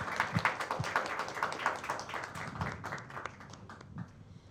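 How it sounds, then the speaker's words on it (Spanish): Applause at an academic event on critical thought and philosophy, loose scattered clapping from a modest audience, a few distinct claps at first, then thinning and fading out. "Les pido por favor un aplauso."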